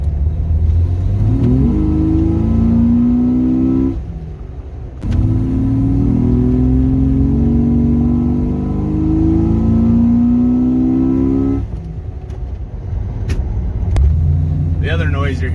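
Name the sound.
Jeep XJ with glass pack muffler exhaust accelerating on road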